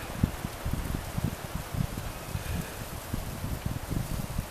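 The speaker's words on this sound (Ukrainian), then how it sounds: "Вітер сьогодні, третій день підряд у нас тут не заспокоюється" Wind blows steadily outdoors, buffeting with low gusty rumbles and a constant rushing hiss, with no voices.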